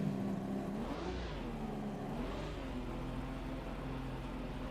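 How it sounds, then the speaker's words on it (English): A car engine running in the Assetto Corsa Competizione racing game, a steady mid-pitched hum that rises and falls in two gentle revving swells at a constant loud level, with no voices. "So we start the engine."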